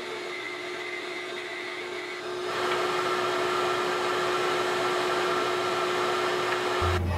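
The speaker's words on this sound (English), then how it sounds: "I'm gonna run them through the drum sander to thickness them down to exactly 1/4 inch" Drum sander thicknessing resawn wood pieces for a bass guitar neck down to 1/4 inch: a steady motor hum that grows louder and rougher as a board feeds through, with no talking.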